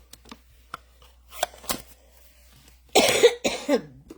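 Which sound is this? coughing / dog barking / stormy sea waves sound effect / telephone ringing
coughing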